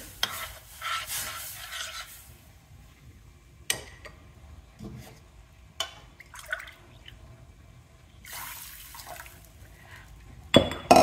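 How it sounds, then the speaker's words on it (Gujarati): Water poured from a bowl into a roasted pearl millet flour and ghee mixture and stirred, giving soft splashing and scraping with faint clinks, quiet and close, with pauses and a louder burst near the end. "આપણે બે કચોરા જેટલું પાણી લઈ લેશું અને મિક્સ પર નાખશું"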